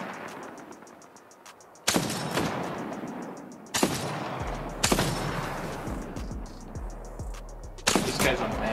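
Four loud, sharp shots from a Longbow sniper rifle in a video game crack out at uneven intervals, each one trailing into a long ringing tail with low booming echoes.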